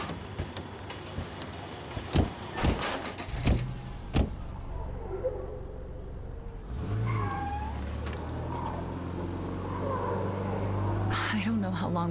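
A vehicle drives in the zombie survival video game State of Decay 2, a steady engine rumble with a few sharp knocks and bumps early on, voices mingling with the drive.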